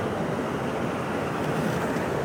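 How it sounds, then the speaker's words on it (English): A flooded river rushing during the 2013 Calgary flood, a loud continuous roar of churning water with wind buffeting the microphone, steady throughout. "The river has literally come right up to the bank."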